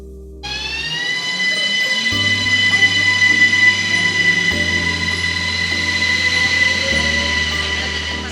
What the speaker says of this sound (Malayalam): അപ്പോൾ നമ്മൾ ട്രെയിനിൽ കയറി ഇനി കുറച്ച് കഴിയുമ്പോൾ ഇത് സ്റ്റാർട്ട് ചെയ്യും.